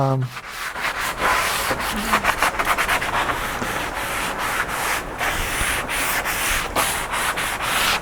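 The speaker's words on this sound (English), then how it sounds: "a light sanding will allow the wood to take the stain very well" Continuous rough scraping of sandpaper on wood for a side table, steady back-and-forth strokes, close and fairly loud, with no talking.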